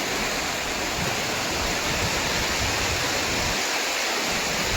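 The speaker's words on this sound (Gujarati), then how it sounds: "પથ્થરમાં પાણીના ઝરણા જે પડે છે" Rain-swollen streams of water pour over rocks where a lake is overflowing, making a loud, steady, close rush that never lets up. No voices are heard.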